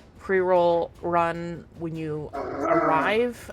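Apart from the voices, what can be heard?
dog barking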